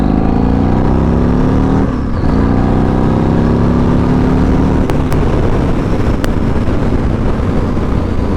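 Yamaha MT-01 motorcycle engine, close and loud, a deep rumbling tone that climbs in pitch as it revs, dips briefly, then builds again to a steady roar.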